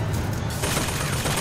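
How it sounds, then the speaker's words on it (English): Dense rattling machine gun fire in a first-person shooter game, loud and continuous with a sharp flurry midway, no talking over it. "I heard a machine gun."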